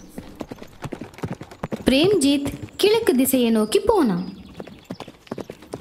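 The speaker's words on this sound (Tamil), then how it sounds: "4 பேரும் குதிரையை ஏறி 4 திசைகளுக்கும் போனாங்க." Several horses ridden off in different directions give steady, close clip-clop hoofbeats throughout, with a whinny in the middle, while a narrator speaks over them.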